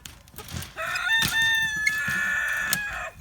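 Rooster crowing nearby in a bachelor pen of roosters that includes Cochins, one long sustained crow over scattered clucking from other birds.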